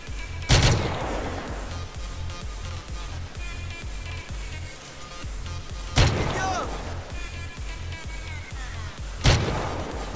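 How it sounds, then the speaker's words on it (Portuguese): Three sharp gunshots from a GTA San Andreas army mission mod ring out at roughly even intervals, each a loud broadband crack over a steady pulsing game soundtrack. "Um tiro na cabeça, ó."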